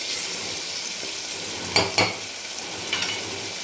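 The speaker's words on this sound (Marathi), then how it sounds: "तर हे मीठ टाकून घेऊ आणि छान एकदम याला फ्राय होऊ देणार आहे छान नरम झाले पाहिजेत आपले टोमॅटो" Tomatoes fry with salt in a pan for a masala brinjal dish, giving a steady soft sizzle with a few sharp utensil scrapes and clicks as they are stirred.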